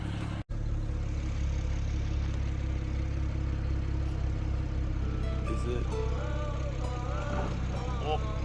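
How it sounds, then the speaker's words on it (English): A stock-exhaust BMW E92 335is idles with a steady, deep, even rumble that holds for the whole stretch, while faint higher chirping tones drift in near the end. "This is stock exhaust, it sounds really good to me."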